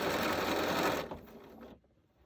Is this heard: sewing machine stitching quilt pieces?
yes